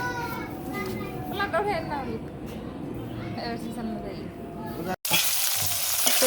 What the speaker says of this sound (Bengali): যে মাছ ভাজি রয়েছে ওপরে ভাজিয়ে দিই